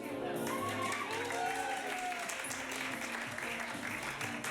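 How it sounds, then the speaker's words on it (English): A comedy show audience applauds and cheers to welcome the host. Dense clapping runs throughout, with whoops and shouted voices rising over it. "Alright, now please go bananas for our host, Nate May."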